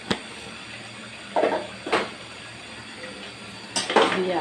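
A spoon stirring cow liver curry in a pan, a few scattered clinks and scrapes against the metal, separated by quieter stretches, with no voices.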